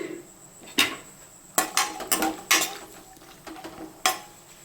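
Dry fruits fried in ghee in a pan for bottle gourd halwa, the spoon scraping and clanking against the metal in irregular bursts, close up, with faint frying underneath.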